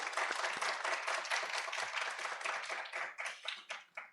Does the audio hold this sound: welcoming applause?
yes